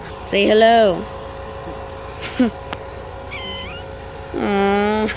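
A Maine Coon kitten meows twice, high and close, with a soft voice speaking briefly between the cries and a few small clicks.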